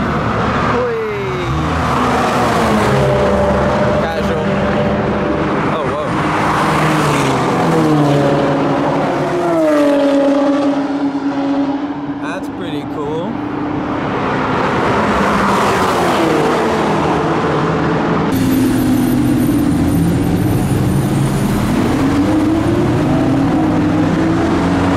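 A Porsche Cayman GT4 roars past on the Monza racetrack, its engine note rising and falling as it sweeps by loud and close, with sustained engine noise carrying on throughout.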